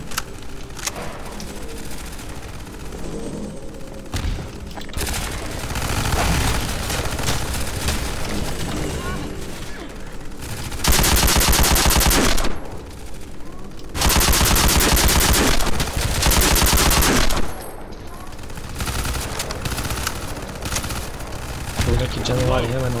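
Half-Life 2 gunfire crackles in rapid automatic bursts, with dense loud volleys rising and breaking off over about twenty seconds while someone talks over the shooting.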